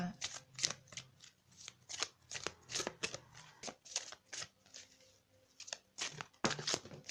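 Tarot cards being shuffled in a series of crisp riffling bursts and snaps, close and irregular, repeating through the whole stretch with little pause.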